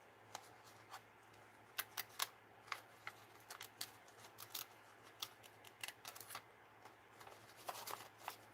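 Scissors fussy-cutting paper for envelope and mixed-media art, heard as quiet, close, irregular snips and crisp paper rustles over a low steady hum.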